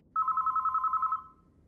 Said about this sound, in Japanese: 電話だな。